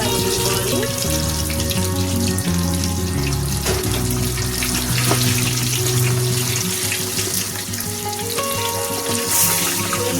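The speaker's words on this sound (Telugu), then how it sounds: "ఇప్పుడు మనం ఈ మీట్ బాల్స్ని ఒక్కొక్క దాన్ని జాగ్రత్తగా వేసుకోవాలి అలా దూరం దూరంగా" Mutton keema meatballs frying in hot oil produce a loud, dense, continuous crackling sizzle, close up, with music playing underneath throughout.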